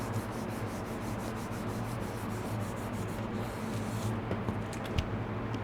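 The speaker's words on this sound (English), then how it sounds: "I'm going to flip this over and rub it down so that that napkin has got good adherence on there" A napkin is rubbed down by hand onto a handmade box for a mini slimline card set, giving a steady, close, continuous dry rubbing and scuffing with no talk.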